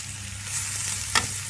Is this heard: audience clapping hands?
no